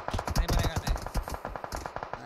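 Shooter game gunfire with a Draco weapon, a fast stuttering string of close, punchy shots over low game noise.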